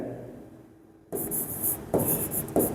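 Pen or chalk writing on paper or a board for a chemistry lesson, a close scratchy scribble that starts abruptly after a near-silent pause and continues in short strokes, with no talking.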